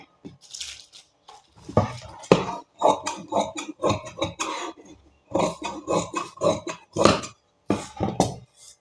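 Scissors cut through blouse lining fabric in quick bursts of crisp, close snips, broken by short pauses. No one speaks.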